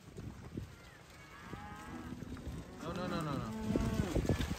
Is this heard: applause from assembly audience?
no